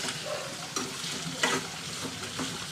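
Nalleru (veldt grape) stems fry in a pan with a continuous crackling sizzle, broken by a few louder pops and stirring scrapes.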